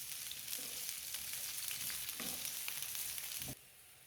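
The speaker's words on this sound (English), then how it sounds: "To the fry pan, I'm just going to add the onion." Onion frying in olive oil in a fry pan, a steady close sizzle with a few stirring scrapes, cutting off abruptly near the end.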